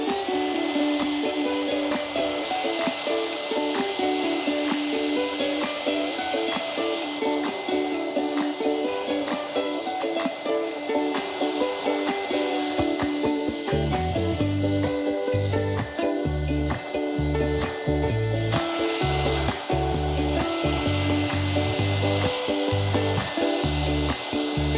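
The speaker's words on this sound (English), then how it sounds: "I take a hairdryer and dry as I go over it with the sponge." A hairdryer blowing steadily at close range while damp chalk paint is dried on an old dresser being restyled, a continuous whirring hiss throughout, joined midway by a rhythmic rubbing or scraping from the sponge.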